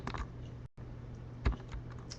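Typing on a computer keyboard, a steady run of close, soft key clicks with a brief gap and one louder tap, against low background hum.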